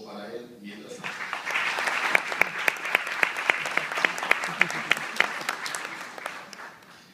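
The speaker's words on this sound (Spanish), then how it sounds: "El aplauso para él mientras tanto." An audience applauds Dr. Edgar Hernández Mejía at a morning event in Higüey unveiling a painting of the Virgin: steady, moderately loud clapping that swells and settles into sharp rhythmic claps before fading.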